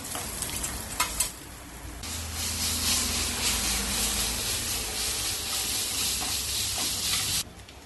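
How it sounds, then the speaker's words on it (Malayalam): Grated raw mango sautés with turmeric, asafoetida and spices in a hot pan, a loud steady sizzle and hiss that rises after a couple of seconds and holds before cutting off, with no talking. "ഇനി ഇതിലേക്ക് മാങ്ങ ഗ്രേറ്റ് ചെയ്തിട്ട് വഴറ്റാം"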